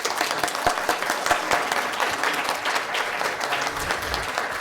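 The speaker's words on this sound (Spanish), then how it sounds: "Un aplauso por ahí." Audience applause at a law journal presentation, a crowd clapping steadily with distinct sharp individual claps near the microphone, continuous and moderately loud throughout.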